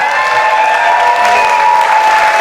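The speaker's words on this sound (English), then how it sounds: "How about a round of applause for Ben Boxiera for putting this together" At a 2017 memorial concert, the audience responds with loud, sustained applause and cheering. Steady whistle-like tones ride over the continuous roar from start to finish.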